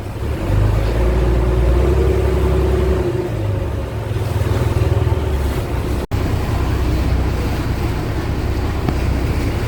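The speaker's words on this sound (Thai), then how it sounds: "รอเรือเทียบท่า" A low, steady boat engine rumble as the boat approaches a river pier, with water and wind noise, droning continuously with a brief dropout partway through.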